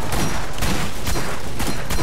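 Rapid, dense gunfire in the video game Borderlands, a loud continuous burst of overlapping shots and booms lasting about two seconds, close and filling the whole clip, with no voices.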